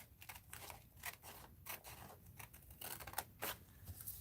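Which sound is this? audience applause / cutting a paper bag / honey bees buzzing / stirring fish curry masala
cutting a paper bag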